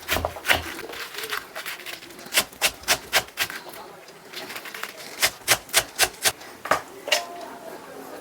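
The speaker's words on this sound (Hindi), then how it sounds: "पालक भी इसी तरह से सारा काट के आप तैयार कर लें।" Knife chopping spinach leaves for a Punjabi sharle recipe, sharp close taps in uneven bursts of quick strokes with short pauses between runs.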